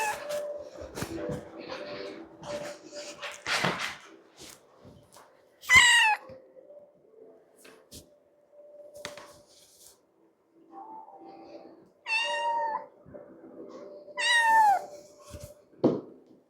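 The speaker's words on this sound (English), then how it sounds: "I hear a very small kitten speaking to me" A very small kitten meows in several short, high, rising calls, separated by quiet gaps, close to the listener. A low murmur of voice and some rustling come before the first meow.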